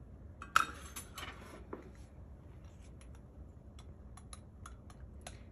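A utensil stirs cornstarch into milk in a small dish while making churros, producing quiet, light clinks and taps against the dish, one sharper knock early and then sparse soft ticks.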